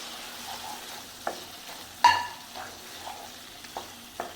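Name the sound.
fried squid cooking in pan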